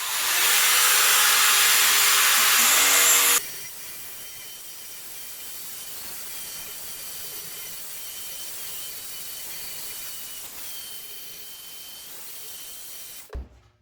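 An Einhell file sander runs at maximum speed, sanding a thick weld flush. It gives a loud, hissing abrasive whine for about three seconds, then stops abruptly, leaving a quieter background.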